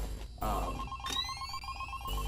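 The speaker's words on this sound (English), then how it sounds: "Oh, I have a phone call." A telephone rings in the horror game Five Nights at Candy's, a clear electronic ring with a repeating tone, heard fairly faintly behind quiet game ambience.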